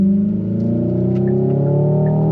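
A 2025 Hyundai Ioniq 5 N electric performance car accelerates with simulated gear shifts, a loud, close synthetic engine-like drone holding steady harmonic tones that climb gradually, with no talking.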